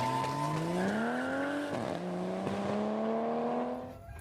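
Toy racing car with engine sound effect, a continuous revving whine that rises in pitch, dips briefly, then climbs again, loud and close with no talking.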